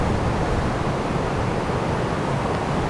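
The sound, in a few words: waterfall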